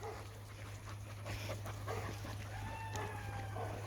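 Dogs bark in the distance from below a rappelling site, a scattered series of faint yaps and whines over a steady low hum.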